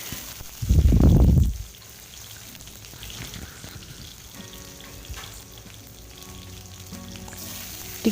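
Green and dried chilies with mustard seeds dropped into hot ghee for tempering, a sudden loud sizzling burst up close that quickly drops to a quieter steady crackle, with faint stirring after.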